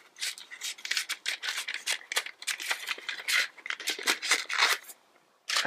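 Scissors snipping through a planner sticker sheet, a quick run of crisp, close cuts in an irregular rhythm that pauses briefly near the end.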